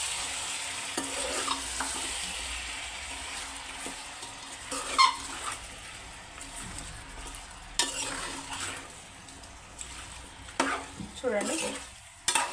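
Chicken frying in oil while being stirred, a low sizzle under scattered scraping and clinking stirs that grow busier toward the end, with one brief spoken word.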